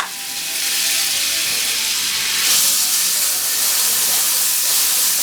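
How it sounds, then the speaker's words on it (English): Butter melts in a hot pan with a steady, close hissing sizzle that swells slightly partway through, making the start of a sauce for banana bread French toast. "I'm going to add 3 ounces of butter."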